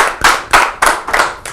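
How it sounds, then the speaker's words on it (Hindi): An audience breaks into loud applause, a series of sharp, even claps in a steady rhythm, close and full, with no voices over it. "एक बार जोरदार तालियां हो जाएंगे."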